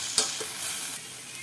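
Tomato and tamarind chutney sautéing in a pan, a steady close sizzle with a sharp scrape of the spoon near the start and quieter stirring after, no voices.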